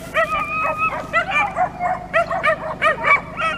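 A female hunting dog at a rabbit hunt on São Miguel in the Azores gives excited, high yipping barks and whines in a quick uneven run, loud and close.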